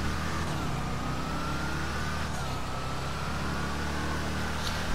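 The Bravado Gauntlet Hellfire muscle car from GTA5 drives along a highway with a steady engine drone under a continuous rumble of road and wind noise. No voice is heard.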